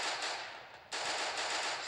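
Automatic gunfire in the mobile shooter game Free Fire, a dense continuous stream of rapid shots with a short gap partway through, fairly faint and with no talk.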